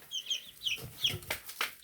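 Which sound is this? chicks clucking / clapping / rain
chicks clucking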